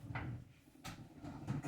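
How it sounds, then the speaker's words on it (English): An indoor door being shut: a couple of soft knocks and clunks, then a sharper thump as it closes, fairly close and quiet, with no talking. "let me close this door."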